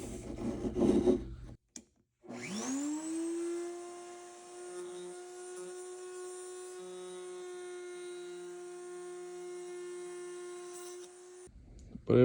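A steady, close grinding whine holds for about nine seconds as a rotary tool bevels the edge of a repair piece for a 1972 Corvette grill, starting after a brief pause and then cutting off abruptly.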